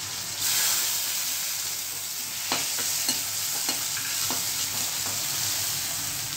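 Tempering of cumin, mustard seeds, asafoetida and garlic in hot oil for a Gujarati vegetable dish: a steady close sizzle with a few sharp crackles and spatters midway, no talking.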